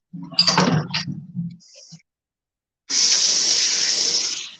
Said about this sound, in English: I'm gonna rinse this fork real quick